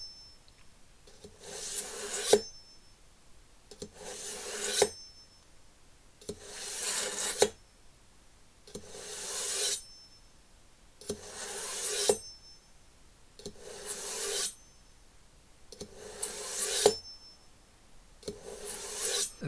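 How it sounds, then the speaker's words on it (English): Kitchen knife drawn heel to tip through a Wusthof hand-held sharpener, eight evenly spaced scraping rasps about two and a half seconds apart, each rising to a bright metallic swipe, close and clear with no talking. "the key thing is drawing your knife from the heel to the tip in one smooth motion"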